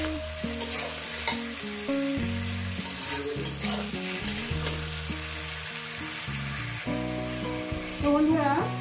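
Chicken mince and fat frying with onion in a pan, a steady continuous sizzle with stirring scrapes throughout, fairly loud and close, alongside a low tonal background that runs under it.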